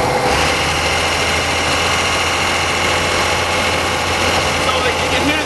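Diesel engine of a 1927 Ford rat rod idling up close, a loud, steady low rumble with constant vibration that holds throughout.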